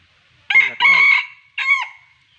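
A fighting-breed breeding rooster crows nearby, loud and alone: a long, strained two-part call followed by a shorter, tapering note.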